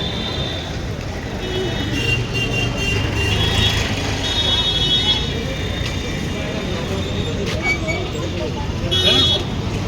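Busy roadside traffic streams past continuously, with car and bus engines, hiss and occasional horn toots, while someone waits to cross. Voices talk over the steady din.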